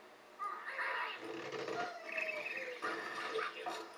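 Cartoonish bird squawks and chirps from the Angry Birds video game, with several birds crying out together in short bursts over a steady game background.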